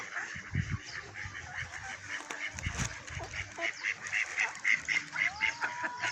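Several ducks quack repeatedly at moderate distance over a busy outdoor background, the calls overlapping in an uneven rhythm.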